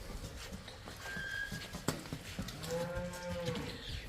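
Cows moo at a Punjabi farm sale where dairy cows and a calf are shown, with several drawn-out lowing calls in the second half over outdoor background noise and a brief knock near the middle.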